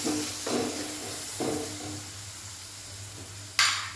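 Chopped tomato frying on a low flame in a pan for vada curry, with a soft steady sizzle and a few scraping stirs, plus a brief sharper hiss near the end; no talking.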